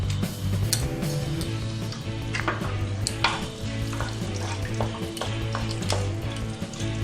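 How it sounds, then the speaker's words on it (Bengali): Whole spices frying in hot oil with two bay leaves and dry and green chillies, crackling and sizzling steadily up close, with frequent sharp pops and a low hum underneath, and nobody talking. "ফোড়ন প্রায় ভাজা হয়ে গেছে"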